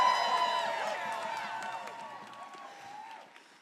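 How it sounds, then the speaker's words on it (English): A rally crowd cheers, whoops and applauds in a loud burst that gradually fades, with an announcer's voice heard as it begins. "Let's give a huge cheer for the CFPB."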